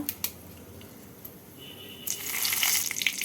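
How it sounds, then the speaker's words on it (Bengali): Dried red chillies, whole garam masala and bay leaf dropped into hot oil for tempering, a faint hiss at first that swells into a bright, crackling sizzle over the last second. "তেলটা গরম হয়ে গেছে এবার দিয়ে দিচ্ছি ফোড়ন শুকনো লঙ্কা গোটা গরম মশলা তেজপাতা"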